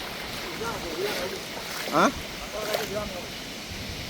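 Floodwater rushes steadily through flooded Palali after Cyclone Ditwah, a continuous broad wash of noise with voices talking and calling over it.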